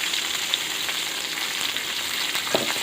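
Onion and chili frying in a pan for gongura dal give off a steady, close, dense sizzle that holds evenly throughout, with a couple of brief crackles near the start and end.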